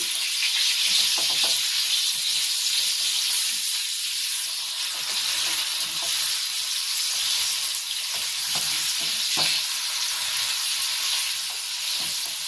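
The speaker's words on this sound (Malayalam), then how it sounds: "ഇപ്പൊ നന്നായി അത് ഫ്രൈ ആയി. ഇപ്പൊ നമ്മളത് തിരിച്ച് മറിച്ചിടാൻ പോവാണ്." Kerala-style mackerel deep-fries in hot oil with a loud, steady, dense sizzle and crackle that carries on unbroken throughout.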